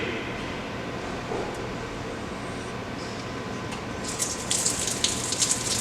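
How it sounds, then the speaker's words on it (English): Water hissing and gushing steadily from a hose as a backflow test gauge is bled on a Watts 007 double check valve assembly, a continuous close rush with a brighter spray toward the end. "We'll pressurize and bleed our gauge."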